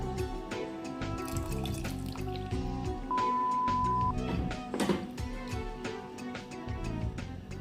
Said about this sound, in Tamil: அந்த மிக்ஸி ஜாரை கொஞ்சம் வாஷ் பண்ணி இதில் சேர்த்துருங்க